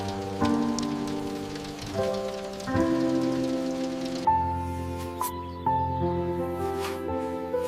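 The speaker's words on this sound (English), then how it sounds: "It's raining again, Asha." Steady rain falls on surfaces in an animated Indian village scene, a continuous soft patter running beneath tonal background music throughout.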